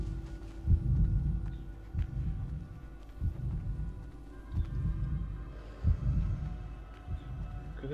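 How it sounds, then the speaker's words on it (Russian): A heartbeat effect from the video game Assassin's Creed 3 thumps in a slow, steady pulse, deep and prominent over a low droning background hum, with no talking. "Выследите в пяти по звуку его сердцебиения."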